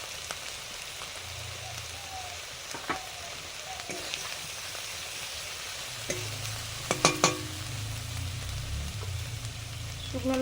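Turmeric frying in hot oil in a pan gives a steady soft crackle and hiss, with faint spatula scrapes and a few sharp pops, close and moderately quiet throughout.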